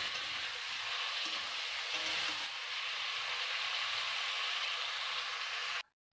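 Mutton sautéing in a pan with garam masala paste, a constant close sizzle and crackle with soft stirring scrapes, holding steady before cutting off sharply near the end.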